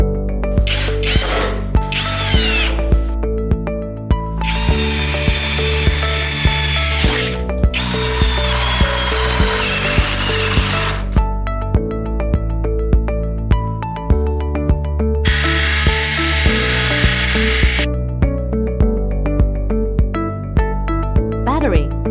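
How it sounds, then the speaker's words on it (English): A 20-volt brushless cordless impact drill whirs in repeated bursts of varying length, loud and close, with steady mechanical hum and brief clicks between runs. "cordless impact drill."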